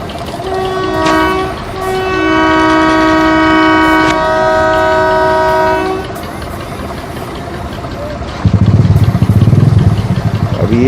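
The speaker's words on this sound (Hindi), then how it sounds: "इतनी स्लो आ रही है ट्रेन भी जनाब की, अल्ट्रा स्लो आ रही है" A train rolls in very slowly and comes to a halt, its long steady horn-like tones holding for several seconds before fading, then a louder rumbling engine or motorcycle idle rises close by near the end.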